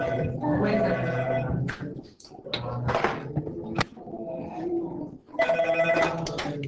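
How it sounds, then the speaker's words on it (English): A telephone rings in repeated bursts separated by short pauses, loud and close, with little else around it. "we're going to start out with the same thing we've always started out with, a phone call"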